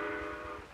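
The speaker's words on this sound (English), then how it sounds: "a train." A steam train from the 1950s passes as a steady, fairly faint rumble with a sustained whistle-like tone, all in under a second.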